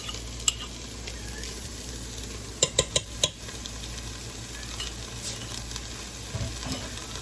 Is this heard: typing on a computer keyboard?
no